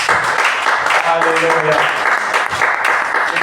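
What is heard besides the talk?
congregation applauding in church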